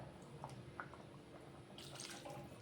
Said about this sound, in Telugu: అన్నీ కడిగి పోస్తున్నాను.